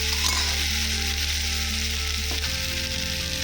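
A spice masala sizzles and sputters in a pan for an egg and potato curry, a loud constant frying hiss over a low steady hum, with a faint scrape partway through and no talking.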